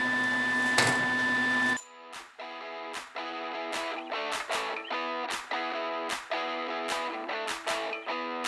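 Tack welds going onto the steel of a 1939 Ford Carson top: after a brief hum, a run of sharp, buzzing welding bursts, roughly a dozen short tacks at an uneven rhythm, close and fairly loud.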